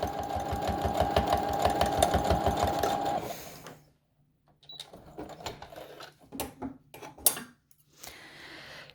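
Fast, even machine stitching on a fabric face mask runs steadily for about three seconds and then stops, followed by scattered clicks and handling noises.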